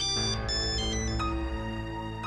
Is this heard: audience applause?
no